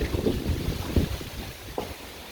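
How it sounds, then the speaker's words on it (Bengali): Gusty wind on a rainy day beside a swollen river, blowing across the microphone as a broad, buffeting rush with irregular surges, fairly loud and close, with no voices. "আজকে সারাদিন অনেক বৃষ্টি হচ্ছে সাথে এরকম দমকা হাওয়া দিচ্ছে"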